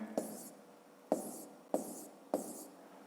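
Pen or pencil writing numerals by hand on paper, four short scratchy strokes spaced about a second apart, close and fairly quiet, with no one talking.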